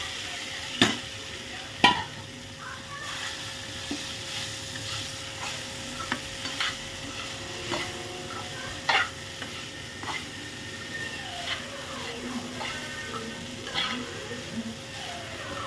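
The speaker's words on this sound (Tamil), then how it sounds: "நான் ஆயில் ஹீட்டாக இருக்கிறதுனால கருப்படிக்க ஆரம்பிச்சிடும் இப்போ வெண்டைக்காயை போட்டுக்கிறோம்" Okra stirred in hot oil in a pan, a steady close sizzle broken by scraping stir strokes and a few sharper clatters, with no talking.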